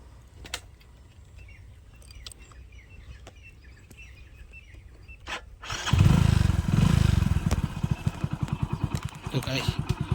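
A motorcycle pulls away slowly, its engine rumbling up loudly and close after a quieter stretch of talk and outdoor ambience, then chugging steadily at low speed.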